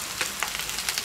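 Vegetables sizzle and crackle in a hot frying pan, a steady close hiss with small pops throughout.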